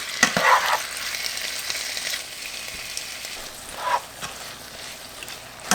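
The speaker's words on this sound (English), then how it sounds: "Now just give this a good mix and let your meat cook through." Seasoned steak meat frying and being stirred in a pan for a keto Philly cheese steak: a steady close sizzle with a scraping stir near the start and another brief stir toward the end.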